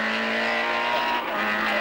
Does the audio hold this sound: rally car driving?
yes